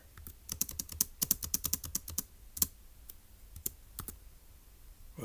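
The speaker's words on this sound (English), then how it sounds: "so let's type it up" Computer keyboard keys typed in a quick burst of clicks, then slower scattered keystrokes after a pause, close and fairly quiet with no voices.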